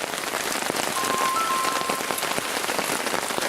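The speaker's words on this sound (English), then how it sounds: "I really like the sound of rain on a tarp." Rain falling steadily on a tarp at a bushcraft campsite, a dense close patter of drops with scattered louder taps, continuous throughout with a faint electronic tone briefly in the background.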